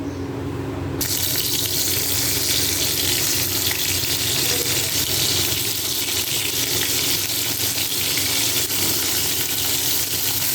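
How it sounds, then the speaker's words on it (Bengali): Shrimp frying in oil in a pan, a loud, steady hissing sizzle that starts abruptly and continues without a break, close by and with no talking. "এবার চিংড়ি কটা ভেজে দিই"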